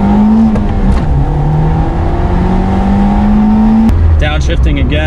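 A 1991 Nissan Pulsar GTi-R hatchback with a Silvia-derived engine accelerates onto a highway, its engine note climbing steadily and loudly from inside the cabin before a shift drops the pitch near the end.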